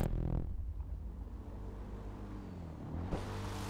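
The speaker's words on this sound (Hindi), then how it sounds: "वो ये पानी में भी चलती है, मुझे पता नहीं था।" In a GTA race, a car drives through water with a continuous low engine rumble and splashing wash, steady throughout, ending in a brighter swell near the end; no speech.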